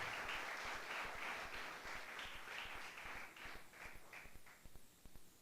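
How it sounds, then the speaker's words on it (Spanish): Church congregation clapping at a Spanish-language evangelical service, a loud burst of many hands that thins toward the end into scattered separate claps. "Denle un aplauso fuerte a sí mismo"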